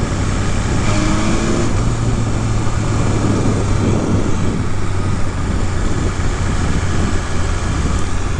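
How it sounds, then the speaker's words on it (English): A BMW S1000RR superbike burbles from its exhaust in a steady, loud, low rumble that stays close and continuous throughout. "a fantastic burble on the back end"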